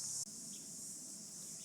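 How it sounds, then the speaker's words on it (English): Cicadas sing through a summer day around a garden, a steady, unbroken high-pitched drone that holds evenly from start to finish, with no voices. "probably more likely the cicadas that are just singing their little hearts out around here this summer"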